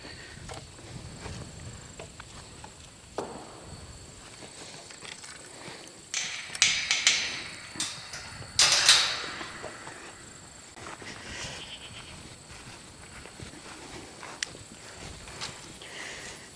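Boer goats walk through a farm gate, with quiet, scattered hoof steps and a few sharper knocks and rattles from the gate scattered over a soft farmyard background.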